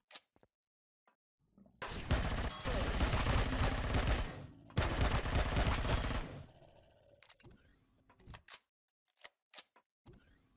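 Advanced pulse rifle in Empyrion Galactic Survival on an icy water moon, two long, loud sustained bursts of rapid fire separated by a brief pause, then scattered sharp clicks and faint impacts.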